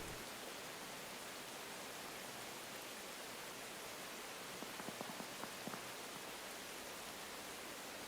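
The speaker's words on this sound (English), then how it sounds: "The rain does sound pleasant." Rain ambience in the Tales of the Shire video game, a faint, steady hiss of falling rain with a few soft taps briefly audible near the end, heard alone.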